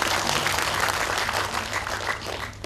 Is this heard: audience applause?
yes